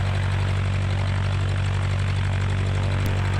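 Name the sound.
Cessna 150 light aircraft engine and propeller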